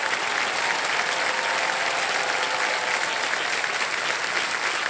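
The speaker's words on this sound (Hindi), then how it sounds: "तालियां बज जाएं इनके लिए" A studio audience at a televised quiz show bursts into dense, sustained applause that stays loud and even throughout, with no voices rising above it.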